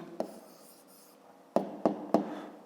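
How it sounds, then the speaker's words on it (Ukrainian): A pen writing out an answer by hand on paper during a fifth-grade maths exercise, heard as a few short, crisp scratchy strokes close by, with quiet pauses between them. "Записуємо тоді відповідь"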